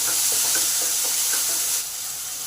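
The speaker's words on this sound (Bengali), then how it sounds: "এই সময় আলুটাকে দিয়ে দিলাম।" Potatoes hit hot oil with frying cumin and nigella seeds, setting off a steady close sizzle with small stirring knocks that eases slightly toward the end.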